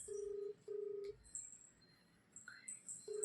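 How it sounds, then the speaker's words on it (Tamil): Telephone keypad dialing tones for an outgoing call: a few short tonal beeps in quick succession with brief gaps, clear and close, with faint background noise between them. "இப்போ ஃபோன் பண்ணுறேன்"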